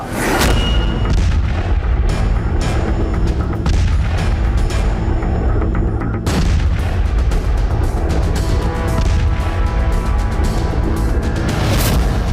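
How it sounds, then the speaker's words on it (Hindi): Heavy booming blasts and gunfire during an attack at a toll plaza in Nagrota, a loud sustained barrage with a sharp burst midway and repeated cracks throughout. "आपने नगरोटा का ये धमाका देखा"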